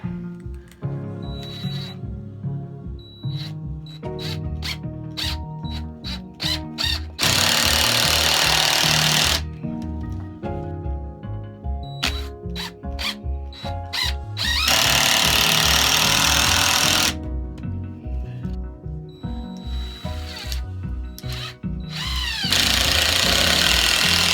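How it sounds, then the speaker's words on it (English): A power drill drives screws fixing wood blocking against the ceiling joists of an old ceiling: loud rapid hammering bursts alternate with three steady high-speed whirs, all close and loud, with no talking. "I'm going to try to screw it in place, anchor it against these joists."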